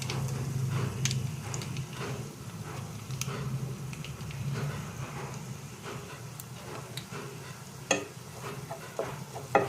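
Melted butter sizzles in a pan as oyster sauce goes in while cooking alimasag crab, a soft, steady frying hiss with light stirring scrapes and occasional taps, fairly quiet and close.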